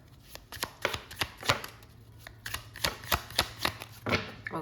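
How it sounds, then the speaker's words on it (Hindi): Tarot cards being shuffled by hand, a quick run of crisp riffling and slapping clicks in uneven bursts, close and fairly quiet, with no talking. "अब शफल हो गया, मैं कार्ड ले रही हूँ"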